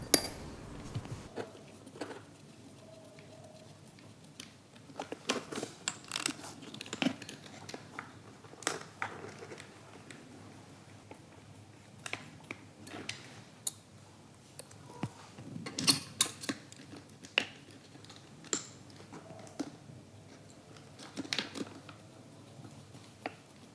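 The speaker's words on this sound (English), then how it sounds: "which have to be installed from the bottom of the chassis. So install the screw from this hole." A small screw is driven up through a hole in the underside of a Rlaarlo Omni Terminator RC car chassis during a larger LiPo battery fit. Soft, scattered clicks and light taps sit close by in a quiet room, with no talking.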